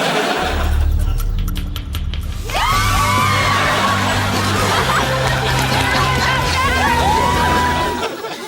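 A group of women from a Leeds sorority let out long, loud rising shrieks together over excited crowd chatter and laughter, after a short burst of noisy babble.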